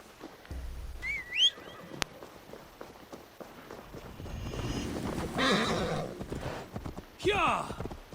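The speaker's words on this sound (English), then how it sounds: "Stop running away, you stupid horse." A horse in Assassin's Creed Valhalla whinnies with a rising squeal, surrounded by hoof clip-clop, running footsteps and bursts of game noise, with someone talking in between.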